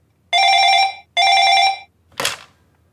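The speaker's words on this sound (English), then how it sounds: "The phone is ringing, sir." A telephone bell rings twice in close, loud, evenly spaced bursts, followed by a brief clatter as the handset is picked up.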